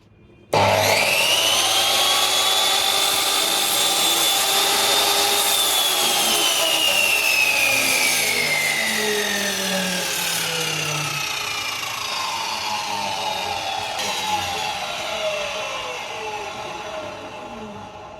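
Mitre saw spinning up to full speed and cutting, a loud high whine with a descending pitch as the blade bites and then winds down, alone without talk.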